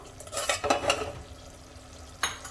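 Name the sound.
stirring and frying potato and onion-tomato sabzi in a pan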